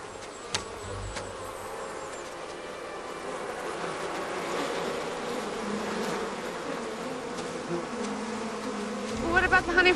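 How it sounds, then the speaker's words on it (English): Bees buzzing steadily around a hive being calmed with smoke for honey collection, a continuous insect drone that holds at a moderate level throughout and grows slightly busier near the end. "What's the matter? One of the bees not sleeping?"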